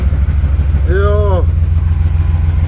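A 1938 SS Jaguar 3½ litre engine running at a low, steady idle, loud and close, with a brief spoken exclamation over the rumble.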